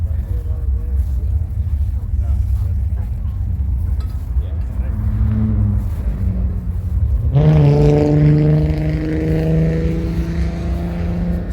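A turbocharged rat rod's engine rumbles loud and low, then rises into a strong droning roar as it rolls in, with voices talking over it.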